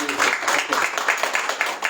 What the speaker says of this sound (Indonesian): Coba beri tepuk tangan Tuhan.